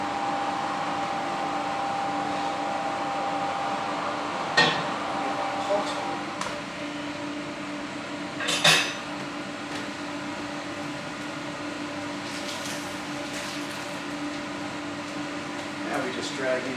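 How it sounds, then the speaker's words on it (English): Steady whooshing drone of an oven extractor fan running in a home kitchen while sourdough bread bakes, with occasional clicks and knocks over it. "Get the fan on."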